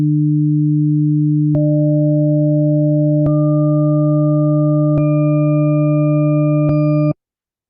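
Pure sine tones enter one at a time, each starting with a small click, stacking into a steady harmonic chord that grows fuller with every added tone before cutting off abruptly.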